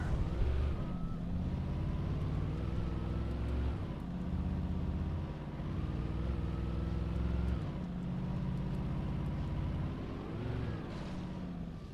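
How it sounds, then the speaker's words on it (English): A car engine drones steadily through a night road scene in the video game Alan Wake, its pitch rising and falling as it passes, fairly loud and continuous with no talk over it. "Another car."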